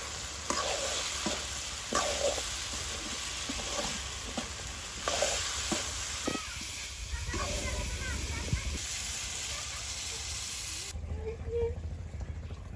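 Chopped onion and garlic sizzle and fry in a pan in a village kitchen while being stirred, giving a steady hiss broken by repeated scraping stirs; the frying drops off sharply near the end.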